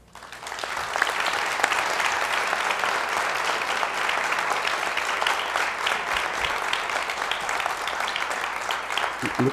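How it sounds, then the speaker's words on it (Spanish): Sustained applause from an audience at an anniversary event for an ophthalmology organization, dense and steady for nearly ten seconds. "le tenemos que dar un fuerte aplauso"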